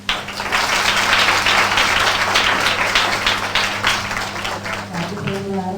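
Audience applause at a school for blind and deaf children, a steady wash of many hands clapping for several seconds, then thinning out as a voice begins.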